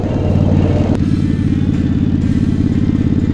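Two motorcycles with four cylinders between them ride together, their engines producing a loud, close, continuous rumbling drone with a steady pulsing note.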